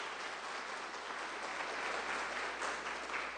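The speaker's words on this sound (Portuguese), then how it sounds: "E dê uma salva de palmas para o Senhor Jesus." A church congregation at a Sunday service claps steadily in sustained, dense applause, with no voices standing out.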